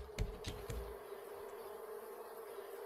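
Bees buzzing around a beehive in the survival game Raft, a low steady drone with a few brief louder bursts near the start, fairly faint and without talk.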